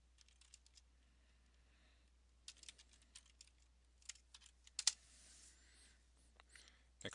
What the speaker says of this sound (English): which allows me to type whatever I want.